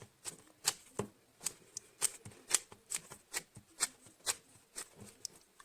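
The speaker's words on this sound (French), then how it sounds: "Là j'utilise une gomme mie-de-pince, c'est une gomme exprès pour effacer un peu les traits." A kneaded eraser rubs quickly back and forth over pencil lines on paper, making close, dry scuffing strokes at an even rhythm, about three per second.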